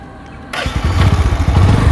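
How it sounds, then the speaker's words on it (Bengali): A Bajaj Discover motorcycle engine starts after a brief quiet moment and settles into a close, loud, steady idle in neutral with a regular throbbing pulse. "এই মুহূর্তে বাইক নিউট্রাল রয়েছে"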